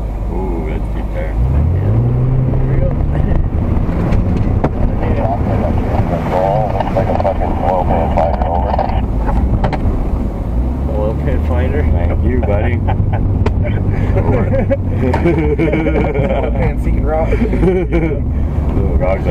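A skidder's engine runs steadily while the machine drives back to town, with a low droning rumble throughout, wind buffeting the microphone and people talking over it.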